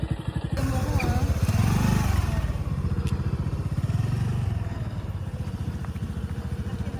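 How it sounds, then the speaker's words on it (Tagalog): A TVS motorcycle engine running close by, a loud steady low rumble with fast rhythmic pulsing that holds throughout and eases slightly toward the end. "mag-aaral tayong magmotor at gamit ko tong TVS"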